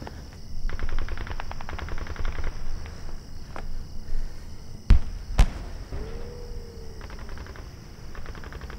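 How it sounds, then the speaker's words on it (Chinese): Scattered gunfire in a wartime film battle against Japanese troops: a few sharp shots and bursts stand out over a busy low rumble. A whistling or whining sound passes through near the end. "可枪声越来越细了呀"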